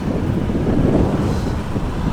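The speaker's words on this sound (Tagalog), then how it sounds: "Lakas pa ng hangin." Strong, cold wind buffets the microphone in a continuous low roar, steady and loud with no voices, during a bike ride in Tagaytay.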